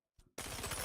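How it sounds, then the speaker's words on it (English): Enemy gunfire in Star Citizen, a short burst of rapid automatic shots after a brief quieter sound, loud and close, with no talking. "Our enemy's firing on us."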